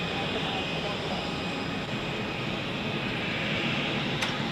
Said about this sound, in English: Iberia will most likely taxi to the parking position at Dock A.